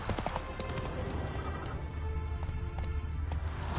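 Geralt's horse Roach galloping in The Witcher 3, hooves pounding in a steady fast rhythm, close and continuous over a low rumbling background.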